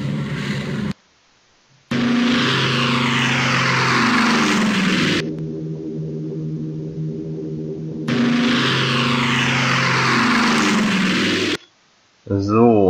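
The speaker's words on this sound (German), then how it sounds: "So, und da kommen jetzt doch einiges an Flugzeugen an." Propeller aircraft drone steadily as they arrive in the World War II strategy game Panzer General 3D, with the engine sound swelling and fading in long stretches under someone talking.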